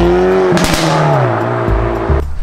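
A Hyundai i30N Performance with its intermediate silencer removed and a valved exhaust revs hard close by, a loud blipping rise and fall of engine note with sharp crackles, settling into a lower idle-like drone before a final burst.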